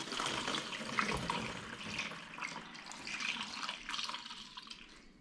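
A 50-50 mix of water and screen wash pours steadily into a car's washer reservoir, a continuous splashing, slightly frothy liquid stream heard close up without talk.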